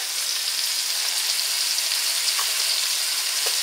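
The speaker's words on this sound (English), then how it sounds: "I'm just going to let the vegetables cook with the meat" Extra-lean ground meat and vegetables sizzle steadily in a pan for pasta fagioli, a close, continuous crackling hiss with a few louder pops and no talking.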